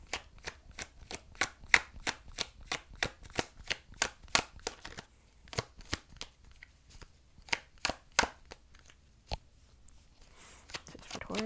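Tarot cards being shuffled and drawn make a fast string of crisp, close riffling snaps that slows into a few scattered flicks and slaps near the end.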